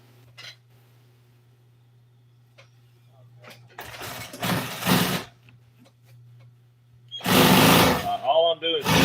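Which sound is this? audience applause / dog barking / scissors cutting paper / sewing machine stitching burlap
sewing machine stitching burlap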